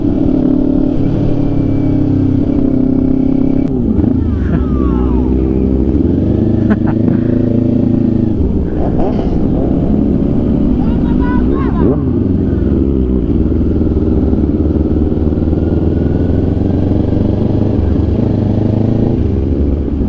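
Big motorcycles, a BMW R1250 and a Suzuki GSX, ride past on a rough sandy road, engines droning and revving with rising and falling pitch and some clatter, no talking.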